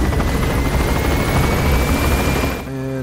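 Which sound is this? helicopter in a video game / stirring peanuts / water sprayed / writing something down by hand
helicopter in a video game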